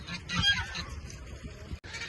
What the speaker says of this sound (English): Look at that baby goat.